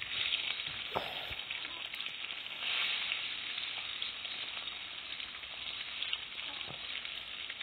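Egg paneer pieces sizzle steadily in hot oil, a dense continuous crackle with occasional louder pops and a stir or two, close and alone with no talk.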